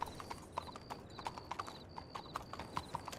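Horse hooves clip-clopping in a role-play video game: a steady run of hoofbeats at an even trotting rhythm, fairly quiet and close, with a faint whinny-like tone.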